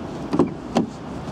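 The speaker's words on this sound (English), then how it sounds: "As we open the back of the doors of the car," Two soft clunks about half a second apart, a Vauxhall Insignia rear door unlatching and swinging open, fairly quiet with a faint background hiss.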